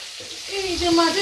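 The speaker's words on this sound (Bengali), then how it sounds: "এই যে চলছে মুড়ো ভাজা" Hilsa fish head crackling and hissing in hot oil, a dense close sizzle that swells slightly near the end.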